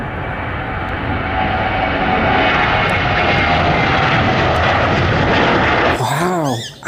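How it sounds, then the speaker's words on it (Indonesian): A toy airplane gives out a loud, steady recorded propeller-engine roar that holds for several seconds before cutting off, and a voice speaks at the end. "Wow, ada pesawat terbang."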